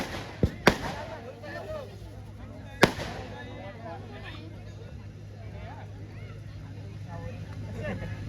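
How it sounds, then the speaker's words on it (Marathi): Two or three sharp firework bangs burst in quick succession near the start, then another loud crack, over a steady hum of crowd noise and a constant low drone at a welcome for guests at a sports club event. "आपण या फटाक्याची आतिषबाजी आमच्या मंडळाकडून केली जाते"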